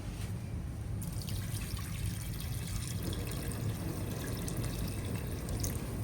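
A soft, continuous trickle of water being poured into a curry pot, fairly quiet and steady with no talking.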